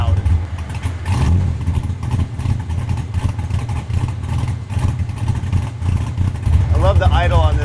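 Car engine with a Flowmaster exhaust idling up close, a steady low raspy rumble that carries throughout with a slight rise near the end, and someone talking over it.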